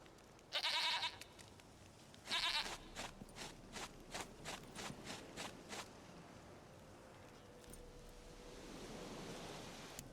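A goat in The Witcher video game gives two loud, sharp bleats followed by a quick stuttering run of quieter calls, over a steady rushing outdoor ambience.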